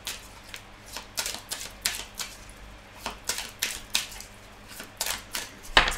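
Tarot cards are shuffled in a steady series of soft, riffling swishes and flicks at close range, about two per second, ending with a sharper tap.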